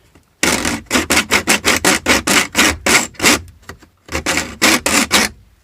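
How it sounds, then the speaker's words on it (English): A small hand hacksaw cuts a stereo mounting piece in fast, steady back-and-forth rasping strokes that are loud and close, with a short pause before the sawing resumes. "So I'm just using a little hacksaw."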